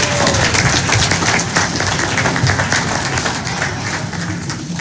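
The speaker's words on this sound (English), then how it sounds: "Let us give them a round of applause" A church congregation applauds during a Sunday service, a loud, dense, sustained wash of clapping hands that fills the room with no speech over it.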